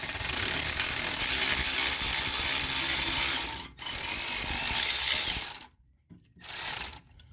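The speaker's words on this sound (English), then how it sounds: "I'm using my cordless ratchet" A cordless ratchet loosens a brake caliper bolt on a Ford Fusion Sport, whirring loudly in two long continuous runs with a brief stop between, then a silent gap before a short final burst.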